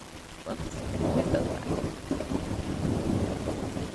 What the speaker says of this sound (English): The rain's really coming down, so my head gets soaked in moments.